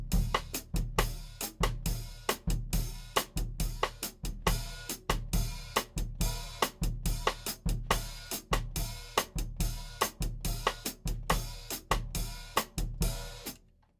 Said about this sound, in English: the kind of variation of the Bossa Nova that you might get taught might sound something like this.